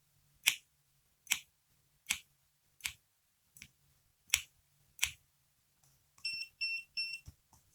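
A smart Wi-Fi dimmer module signals after a reset: a slow series of sharp, evenly spaced clicks, then a quick cluster of bright electronic beeps, close and fairly quiet with no talking.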